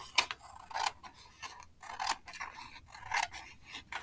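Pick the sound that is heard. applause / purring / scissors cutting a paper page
scissors cutting a paper page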